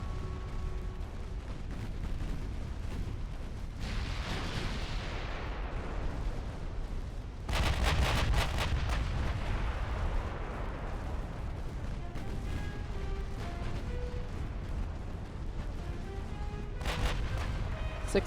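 Battleship secondary guns firing in the naval warfare game Ultimate Admiral: Dreadnoughts: repeated heavy booms with long rolling echoes over a constant rumble of battle, and a louder salvo midway.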